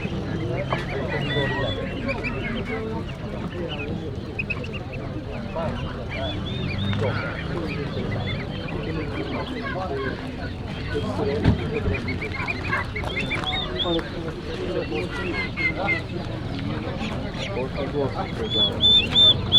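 Ducks, geese and chickens at a busy outdoor poultry market in Łomża keep up a dense, loud chorus of honks, quacks and clucks from start to finish, with people talking among the birds.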